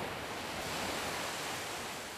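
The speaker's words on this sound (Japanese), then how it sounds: "遠浅で静かな波が打ち寄せる津市の阿漕ヶ浦海岸" Gentle, shallow-water waves wash steadily onto Akogigaura beach in Tsu, Mie, a soft continuous surf hiss at moderate distance with no voices.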